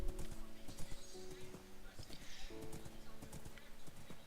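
Horses in the Minecraft video game trot with rapid, repeated clip-clop hooves, quiet but clear and layered over soft game ambience, with an occasional faint whinny-like tone.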